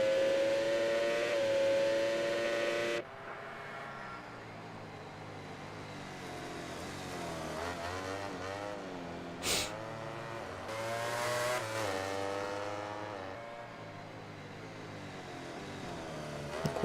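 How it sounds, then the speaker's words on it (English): A Ducati motorcycle engine in MotoGP 19 at Le Mans drones through a high rev, then drops to a lower rumble that rises and falls as the bike accelerates, loud and continuous with no voices. "listen to that Ducati rumble"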